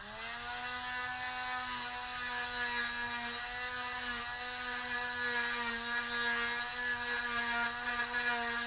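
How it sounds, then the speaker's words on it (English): A small drill bit grinds through the interior of a plastic toy, producing a continuous high-pitched whirring drone that wavers slightly as the bit is wiggled and shifted around, close and steady throughout, with no voices. "I'm going through, kind of basically wiggling this drill bit, kind of shifting it around like so"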